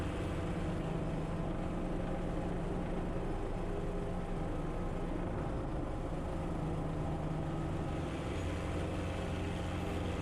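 Guimbal Cabri G2 helicopter doing quick stop practice at Sportsman Airpark: a loud, steady drone of engine and rotor heard close from the cabin, unbroken throughout with no talking.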